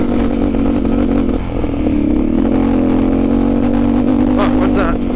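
A Suzuki DRZ400SM motorcycle engine with a recently adjusted carburetor runs loud and close throughout, with a steady idle and a brief rev rise, while a person talks over it.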